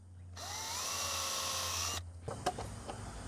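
A power drill whines steadily while boring a hole into a wooden handle for a homemade fruit picker, lasting under two seconds before stopping, then light knocks and handling sounds follow.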